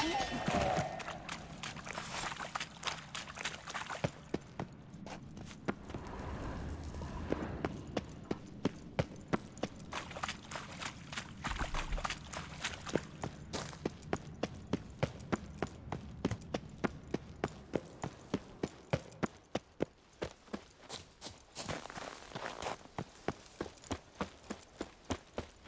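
Horse hooves clip-clopping at a gallop in The Witcher 3: Wild Hunt, a steady fast rhythm of sharp hoofbeats running under ambient game sound, with brief voice moments early on.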